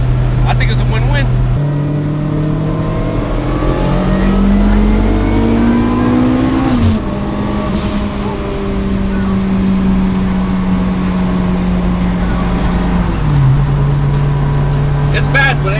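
An AWD K-series turbo four-door Acura Integra street car pulls hard from inside the cabin, the engine note rising through the gears with a shift, loud and sustained, while passengers talk over it.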